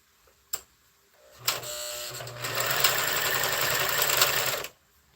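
A sewing machine with threading trouble runs in one sustained, close whirring burst lasting a few seconds after a couple of brief clicks, loud and alone with no talking.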